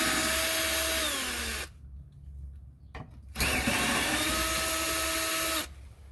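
A power tool with a 1/4 inch socket loosens rock slider step bolts on a 2001 Jeep TJ in two loud whirring bursts that rise in pitch. A short pause with brief clatter separates them, and the tool stops near the end.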